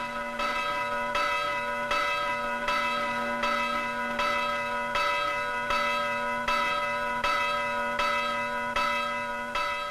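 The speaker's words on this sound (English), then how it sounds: "Bells. You hear bells all over this island." Church bells ring out across Cyprus, with steady, evenly spaced strikes of a resonant bell tolling about every second, their long ringing tones overlapping without any voices.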